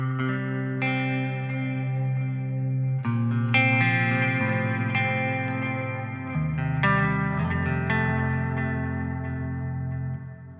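Clean electric guitar played through a JST ToneForge plugin with reverb and delay, sustained chords ringing out with lush echoing tails, continuous and fairly loud with no talking.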